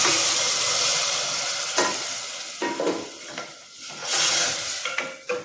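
Dal is poured into a hot pan with spice masala, setting off a loud, bright sizzle and steamy hiss, broken by several sharp stirring scrapes and a fresh burst of sizzling partway through.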